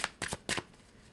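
Oracle card deck being shuffled by hand: three quick papery riffles, close and fairly loud, with no talking.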